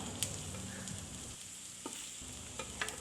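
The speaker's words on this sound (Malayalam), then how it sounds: "ഇനി നമുക്ക് ബാക്കിയുള്ള ചിക്കനും അതേപോലെ ഫ്രൈ ചെയ്തെടുക്കാം." Chicken pieces fry in oil for spicy chicken kondattam, a soft steady sizzle heard fairly quietly with a few light clicks and taps from a utensil against the pan.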